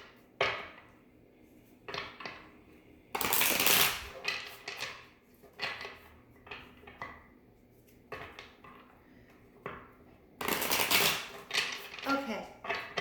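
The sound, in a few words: shuffling cards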